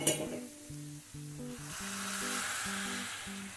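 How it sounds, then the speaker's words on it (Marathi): Hot water is poured into a hot cooking pan for masala Maggi noodles, setting off a growing sizzle and hiss, heard under a light melodic tune with plucked notes. "आता ह्यामध्ये मी गरम पाणी घालते"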